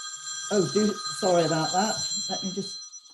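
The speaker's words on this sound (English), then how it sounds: "That was my phone ringing, someone else wanting to speak to me." A mobile phone ringtone sounds during a COVID-19 briefing: steady electronic tones run through the whole moment while a person keeps talking over them.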